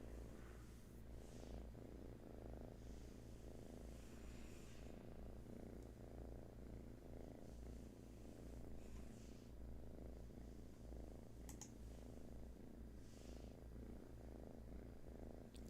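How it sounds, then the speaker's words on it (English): A sleepy kitten purrs softly and steadily, a quiet, close rhythmic rumble that keeps going without a break and with no voices over it. "A very sleepy, yawning kitten."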